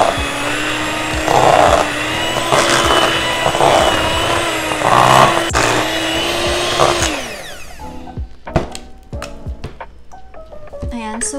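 Electric mixer whirring loudly through cream cheese cookie dough with a steady motor drone that winds down partway, followed by clinks and clatter, with talk over it.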